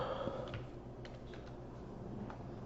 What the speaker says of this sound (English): let's type it in manually here